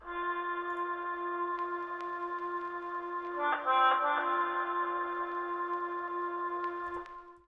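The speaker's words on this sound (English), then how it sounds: "I found this instrument called harmochord from Keyscape" A Harmochord keyboard instrument from Keyscape holds one sustained, vintage-sounding chord alone for about seven seconds, swelling slightly midway as the notes shift.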